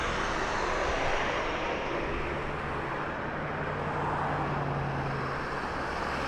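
A jet airliner roars steadily on the runway at Las Vegas Harry Reid International Airport, a broad, loud engine rumble that holds constant throughout with no talking.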